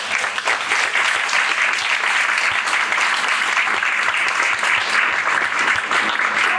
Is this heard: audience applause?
yes